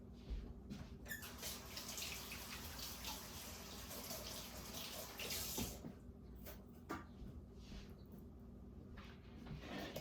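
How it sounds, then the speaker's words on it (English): Hands being washed under a running kitchen tap, a quiet continuous stream of water with splashes and a few squeaks, heard alone at low level. "Wash my hands."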